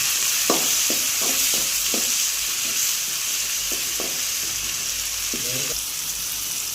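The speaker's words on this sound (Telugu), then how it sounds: "తర్వాత టొమాటోలు కూడా వేసుకొని ఒక 5 మినిట్స్ మగ్గనియాలి." Onions and tomatoes fry in a pan with turmeric and salt for upma, a steady broadband sizzle running throughout with a few short clinks and scrapes of a spoon stirring.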